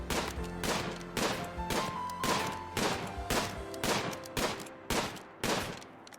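Gunfire in the video game RimWorld: loud, repeated volleys of crackling shots arrive at a steady pace of roughly two per second, over a sustained tonal background, with nobody speaking.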